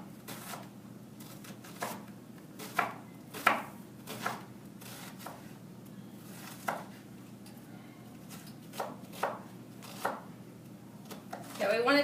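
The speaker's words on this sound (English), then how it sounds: "So I'm going to chop up my onion first." A large onion is chopped with a knife on a cutting board, about half at a time, producing a series of crisp, fairly close knocks in an irregular rhythm over low room hum.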